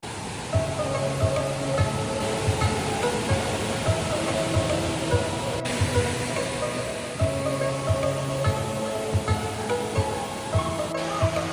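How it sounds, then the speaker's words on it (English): A waterfall near Luang Prabang, Laos, where visitors can swim, gives a steady broadband rush of falling water heard up close, with faint background sounds over the continuous roar. "we're just arriving at the waterfall now"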